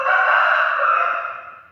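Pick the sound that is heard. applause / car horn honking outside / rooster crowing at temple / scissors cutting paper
rooster crowing at temple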